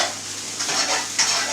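Rice and meat stir-fry in a wok with a close, steady sizzle, broken by a couple of quick scrapes and clinks as the food is tossed.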